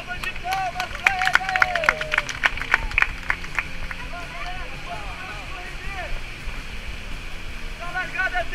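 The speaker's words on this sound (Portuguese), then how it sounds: "Então uma salva de palmas pra ele." A rafting group on a river in Três Coroas, Serra Gaúcha, claps briefly in a burst of scattered, close hand claps over rushing water. Voices shout and talk throughout.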